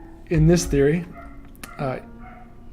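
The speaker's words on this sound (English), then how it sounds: "I'm sorry about the dog barking." A dog barks twice in quick succession, then once more after a pause, fairly close and loud, mixed with someone speaking in the foreground.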